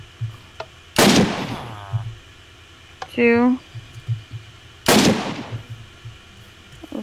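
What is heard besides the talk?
gunshots at targets in a Minecraft map video game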